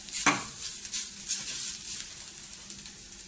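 Grated coconut is dry-roasted in a pan until lightly browned, heard as a soft continuous sizzle. A spatula scrapes and stirs it in short intermittent strokes.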